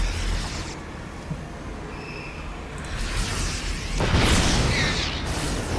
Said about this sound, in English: there's 3 siege tanks ripping to shreds Innovation's Marines